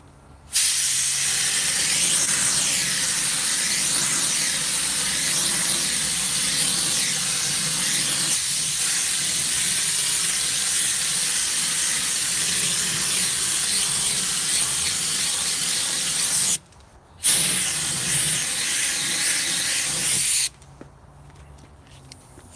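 A Harbor Freight HVLP paint sprayer sprays DIY clay-based paint in a loud, steady hiss that runs for about sixteen seconds, cuts out briefly, resumes for a few more seconds, then stops, with no talking.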